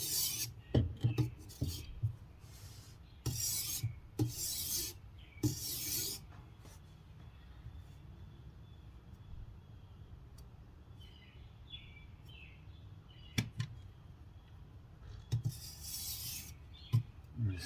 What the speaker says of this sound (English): when I start grinding this down, I'm going to drop it back to a 220 grit to start